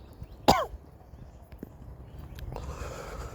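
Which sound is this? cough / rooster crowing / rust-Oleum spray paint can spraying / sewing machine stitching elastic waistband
cough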